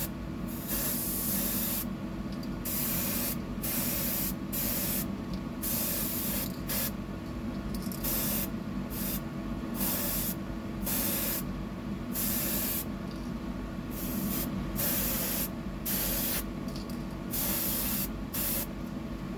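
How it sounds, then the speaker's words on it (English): A spray can laying a coat of paint on a custom fishing lure, in repeated short hissing bursts with brief gaps between them, close and steady. "And another hit. I think another coat will be enough."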